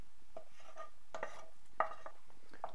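Sautéed mushroom mixture being stirred into a grouse stew, a few brief scraping and clinking strokes of a utensil against the pot with quiet pauses between.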